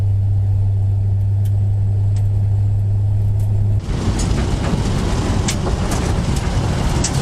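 A 1951 Hudson Hornet rolls along a gravel road, its engine a steady loud drone under a constant crunch of tyres on loose stones, growing rougher and brighter partway through as the surface or speed changes.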